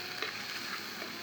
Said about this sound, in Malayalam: എന്നിട്ടൊന്ന് ഇളക്കി വെച്ച് കൊടുക്കാം.